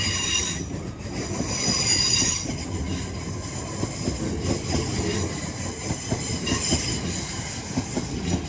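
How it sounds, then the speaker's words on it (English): A West Midlands Railway Class 323 electric unit passes on the Cross City line, with continuous loud rumbling, wheel squeal and clatter from start to finish and no talking. "There goes the 1426 West Midlands Railway service to Bromsgrove via Birmingham New Street."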